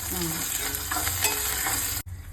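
Curry leaves, two sprigs, crackle and sizzle in hot oil in a pan, a steady close frying hiss with stirring scrapes for about two seconds before cutting off abruptly.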